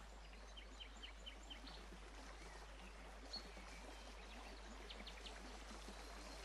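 A small stream trickles and babbles steadily at low volume, with faint bird chirps scattered above the flowing water.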